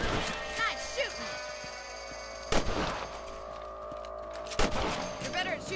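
Rifle shots at rabbits in the Red Dead Redemption video game, three or four sharp cracks spaced a couple of seconds apart over a bed of ambient game sound, with voices talking faintly in between.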